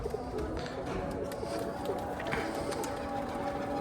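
Domestic pigeons coo softly as they come down to land, low repeated calls over faint background noise at a moderate distance.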